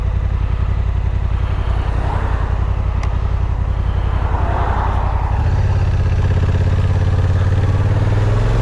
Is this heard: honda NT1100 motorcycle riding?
yes